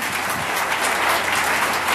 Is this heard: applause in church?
yes